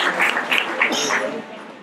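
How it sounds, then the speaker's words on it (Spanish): Audience at a talk on raising children applauding loudly for about two seconds, the clapping mixed with a voice speaking over it. "Fuerte el aplauso también."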